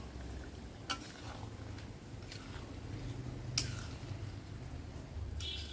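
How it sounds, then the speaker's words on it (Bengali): A spoon stirs a thick sauce in a cooking pan, giving soft scraping and a low bubbling hiss, with a few sharp utensil clicks against the pan scattered through. "এবার এটাকে আমি এখন নাড়বো"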